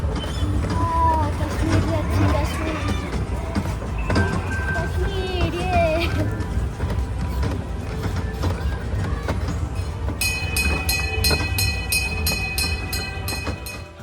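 A toy train ride in Dubai rolls along with a steady low rumble under crowd chatter, and a bright electronic jingle starts near the end.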